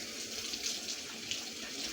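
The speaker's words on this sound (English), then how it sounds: "So let me wash my hands off." Tap water runs steadily into a kitchen sink as hands are rinsed off during chicken strip prep, a constant close hiss with small splashy bumps and no talking.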